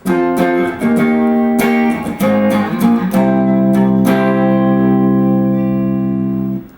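A sequence of sustained, overdriven electric guitar chords changing every second or so, played alone and ringing out at the end.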